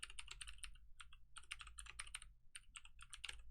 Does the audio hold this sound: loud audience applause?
no